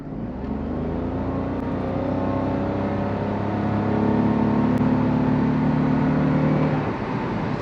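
A Toyota Yaris Cross Hybrid compact SUV accelerating hard on a country road, heard from inside as a steady engine drone with rising whine climbing gradually in pitch over several seconds.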